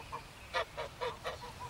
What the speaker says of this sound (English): I looked at the geese, which was hissing and huddling in the corner of the yard.